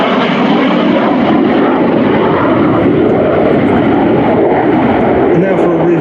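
An aerobatic aircraft's engine roars overhead as a loud, continuous, broad droning rumble that stays steady throughout.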